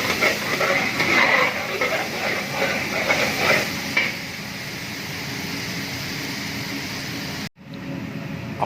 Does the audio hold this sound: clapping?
no